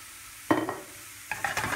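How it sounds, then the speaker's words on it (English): Finely chopped onion goes into a frying pan and is stirred, giving two loud bursts of scraping and sizzling close up, separated by a quieter simmering hiss, with no voices. "really finely chopped onion on the frying pan."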